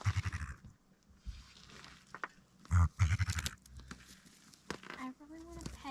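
Squawking, bleat-like calls from a terror bird creature in a video game, a few short cries among rustling and game noises, with a person talking over them.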